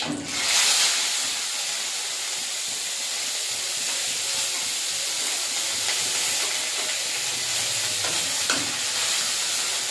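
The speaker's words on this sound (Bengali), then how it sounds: "পেঁয়াজটা ভাজা ভাজা করে নেব" Onion paste sizzles and hisses steadily in a hot pan for a Bengali spicy rohu fish curry with neem leaves and black cumin, a close, continuous frying crackle with occasional stirring scrapes and no talking.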